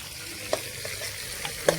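Chicken and spices frying for biryani, giving a steady low sizzle with a couple of light taps from a spoon, and no talking.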